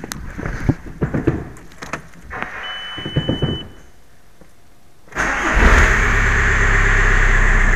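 Clicks and short mechanical noises, then a quiet gap before a TDI turbo diesel car engine with a stalling fault starts and settles into a steady, loud idle.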